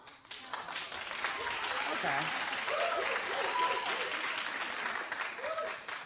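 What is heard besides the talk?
studio audience applause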